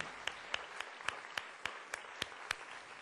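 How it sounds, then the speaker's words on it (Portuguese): A church congregation at a Portuguese-language worship service claps faintly, evenly spaced single claps ringing out in a steady rhythm, about three per second, distant and quiet. "você quer dar um aplauso?"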